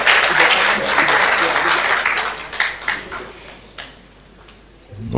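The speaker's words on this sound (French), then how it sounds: "mesdames et messieurs, sous vos applaudissements." Applause from an audience at a diploma ceremony for a master class, loud at first and then thinning into scattered claps and room noise before fading.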